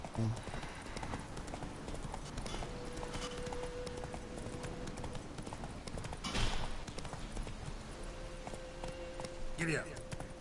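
Horse hooves clip-clop steadily from a PS4 video game, with a brief whinny near the end, while a voice talks over the rhythmic hoofbeats.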